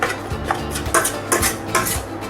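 A spoon scrapes and clinks in a pan as thick Halkova sweet mixture is stirred and cooked. The strokes repeat roughly every half second.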